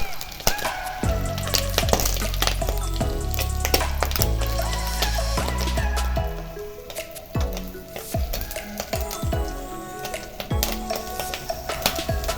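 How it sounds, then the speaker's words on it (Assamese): Fish roe fries in hot oil in a pan over a lowered gas flame, sizzling loudly and steadily while a utensil clatters and scrapes as it is stirred. "এনেদৰে গেছটো অলপ কমাই ল'ব লাগিব জুইটো আৰু মাছৰ কণীখিনি ভাজিম।"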